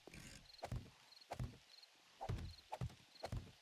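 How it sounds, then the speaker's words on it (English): Footsteps in the 7 Days to Die video game, a series of about eight distinct hard thumping steps in an uneven walking rhythm, close and clear with short gaps between them. "I heard additional footsteps"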